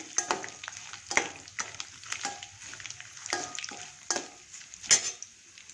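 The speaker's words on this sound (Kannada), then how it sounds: "ಕಡಲೆಕಾಯಿ ಬೀಜ ಬಾಣಲಿಗೆ ಹಾಕ್ತೀನಿ" Peanuts go into a hot frying pan (kadai) and are stirred. Irregular clattering and scraping taps sound close against a soft background sizzle.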